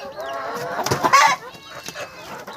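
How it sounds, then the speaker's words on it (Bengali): Several free-range chickens cluck and squawk close by, with a louder burst of clucking in the middle, over general village barnyard noise. "এদিকে দেখুন কত মুরগি দেখুন প্রচুর মুরগি আছে"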